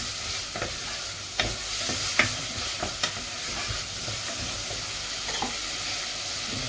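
Carrots and onion sizzle steadily in a frying pan while a utensil stirs them, with sharp scraping clicks scattered over the continuous hiss.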